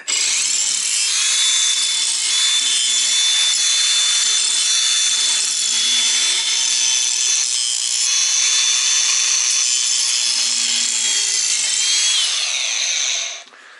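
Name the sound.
small grinder edging the end of 3/4 black pipe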